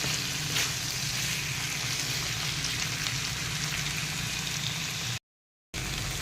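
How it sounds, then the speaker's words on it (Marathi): Potato slices stir-fried in a pan for a spicy Marathi potato bhaji, giving a steady, dense sizzle and crackle that fills the clip and breaks off briefly near the end. "आपण हे परत परतून घ्यायचं आहे"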